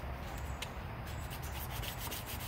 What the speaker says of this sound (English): start sanding gently the outside of your tube